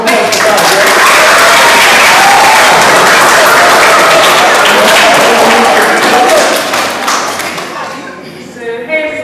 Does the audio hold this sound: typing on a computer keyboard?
no